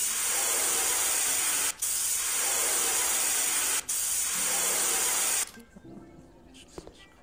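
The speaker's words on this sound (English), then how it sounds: "I'm just gonna spray this very lethal spray where the oven is." In the Cafe Owner Simulator video game, pest spray hisses near the oven in three long, loud continuous bursts broken by brief gaps, then cuts off, leaving faint clicks and quiet background.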